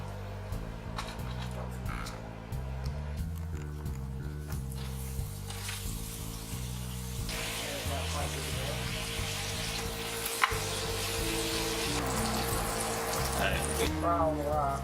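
Slices of sweet Hawaiian bread dipped in batter fry in butter in a pan, giving a steady close sizzle that runs under continuous background music for the whole stretch.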